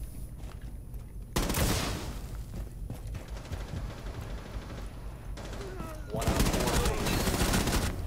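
Video game gunfire bursts out in loud, dense volleys over a steady background din, with one heavy burst near the start and another toward the end.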